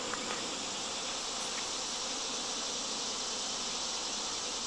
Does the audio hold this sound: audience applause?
no